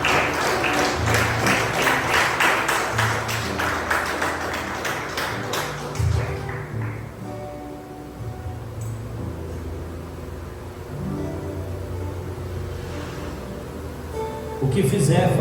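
Church congregation applauding during a sermon, a loud burst of clapping for the first six seconds that fades into quieter room ambience, then a fresh swell of noise near the end.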